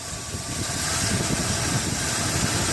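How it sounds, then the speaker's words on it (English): A car engine fitted with a new HEI ignition conversion idles steadily while still cold, a dense close-up rumble with fine rapid pulsing. "We have a running motor"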